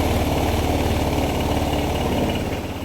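A Honda PCX 160 scooter engine, which has a dropping idle and keeps stalling, idles loudly and steadily up close, a continuous throbbing rumble that eases slightly near the end.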